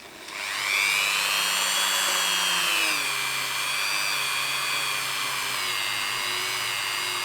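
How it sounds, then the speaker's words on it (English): A Dremel rotary tool spins a felt polishing bit loaded with jeweler's rouge, giving a loud, steady high-pitched whine that ramps up at the start and holds with slight pitch wobbles throughout. "Set it to about half speed, the Dremel, don't set it too high."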